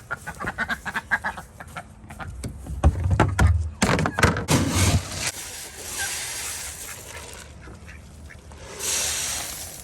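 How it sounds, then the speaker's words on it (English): Ducks quack in a quick burst of nasal calls, several overlapping at close range, then fade into low rustling and background noise. "And then we got 5 ducks."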